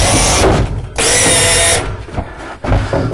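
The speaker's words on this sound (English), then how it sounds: "you're going to screw it right to your wall" A power drill drives long screws into a wall while assembling a corner sauna unit, giving loud whirring bursts that cut off briefly and start again, close up.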